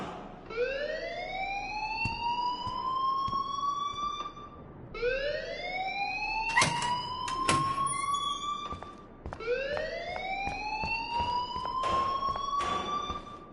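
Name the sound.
alarm ringing in the video game Life is Strange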